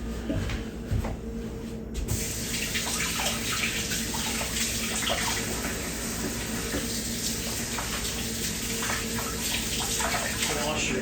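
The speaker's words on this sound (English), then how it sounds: "Wash your hands so you can touch your spices again." Tap water runs steadily into a kitchen sink while hands are washed under it. The flow starts after a short pause with a bump or clunk, then streams continuously, and someone talks over it.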